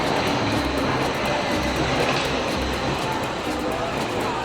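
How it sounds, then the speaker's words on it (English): ICE high-speed train at Cologne Hauptbahnhof, a steady loud broadband rumble and rushing noise of the train running, continuous throughout with no clear speech. "This is my first ever ICE train."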